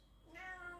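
A house cat meows once, a short, fairly quiet call rising out of a calm room, close by and alone.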